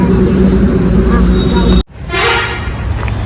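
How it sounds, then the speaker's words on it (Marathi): Road traffic at night with a car passing close by: a loud engine wash, a horn toot, an abrupt cut, then a bright rushing swell as a vehicle goes by, with people talking. "गाडी येते आणि आता ट्रॅफिक पण आहे"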